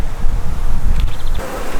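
Honeybees on a heavy hive frame during a varroa check hum in a steady, dense buzz close to the ear, with wind and rustling brushing across the microphone throughout.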